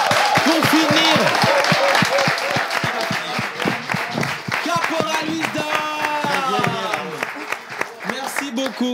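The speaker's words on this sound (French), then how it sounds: "On applaudit Caporal Wisdom pour finir." An audience at a live slam poetry show applauds, with clapping that mixes with music and voices as the set ends and carries on throughout.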